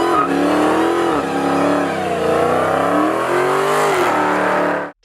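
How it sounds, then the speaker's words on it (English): A Dodge Challenger SRT Hellcat Redeye, a supercharged muscle car making 707 lb-ft of torque, roars loudly and close, its engine note rising and falling through repeated revs before cutting off abruptly at the end. "The roar of the engine is not just a sound, it's a declaration, a sonic representation of the untamed power within."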